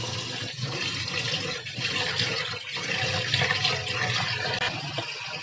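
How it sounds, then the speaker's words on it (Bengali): Rice being washed in water in a home kitchen, a steady running, sloshing wash of water that carries on without a break, close and fairly quiet. "চাল ধোয়া হয়ে গেছে বন্ধুরা"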